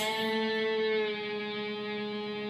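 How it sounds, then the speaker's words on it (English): A single electric guitar note rings out clearly and sustains, bent up a half step and eased back down as it slowly fades. "you'll bend the note up a half a step and bring the note back down"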